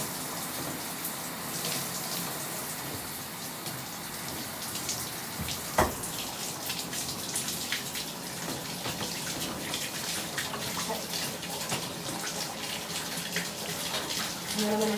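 Shower water runs continuously while curly hair is rinsed and saturated from root to tip, a close, dense hiss of spray with a brief knock partway through.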